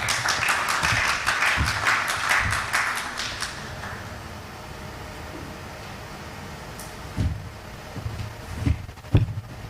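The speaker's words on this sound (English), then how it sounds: "A round of applause for him" Conference audience at an actuarial congress applauding a speaker, a dense round of clapping for a few seconds that fades away, followed by quiet room tone with a few scattered knocks and shuffles.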